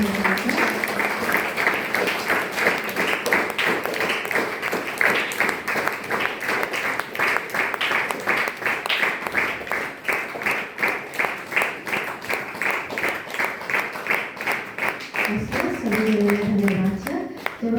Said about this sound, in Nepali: हामी सबै ताली बजाएर चाहनुहुन्छ